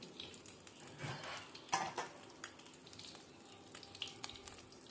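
Bay leaves and cumin seeds crackle and sizzle in a generous pool of hot oil, a soft, steady hiss with a brief louder spatter near the middle, with no one speaking.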